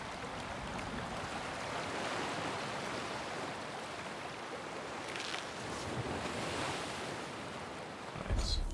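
Steady gusting wind sweeps along a windy path in the video game Banishers: Ghosts of New Eden, a continuous broadband rush with surf-like swells throughout and a brief louder bump near the end, no talking.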